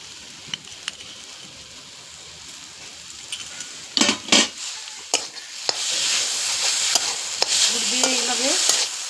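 A spoon scrapes and stirs a papaya and sugarcane jaggery mixture in a hot pan, with intermittent clacks and scrapes over a growing, steady sizzle, close by.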